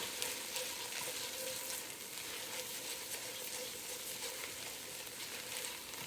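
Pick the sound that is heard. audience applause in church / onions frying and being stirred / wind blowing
onions frying and being stirred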